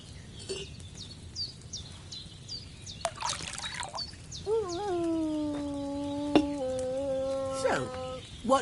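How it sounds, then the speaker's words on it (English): Wine poured into a cauldron in the video game Kingdom Come Deliverance 2, a soft trickling pour with faint birdsong in the background and a voice speaking over part of it. "So, what did you pour in there? Wine, of course."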